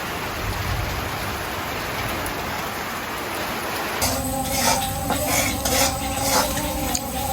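Rain falls steadily outside a home kitchen, a constant hiss that later mixes with clinking of pots and utensils nearby, with no talking.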